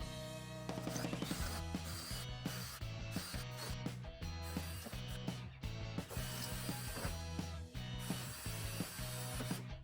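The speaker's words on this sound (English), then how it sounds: "drilling out the rivets and then able to pull everything apart" Power drill boring out rivets to dismantle a metal table in a workshop, sounding as a string of short, grinding bursts with brief pauses between them, close by and with no talking.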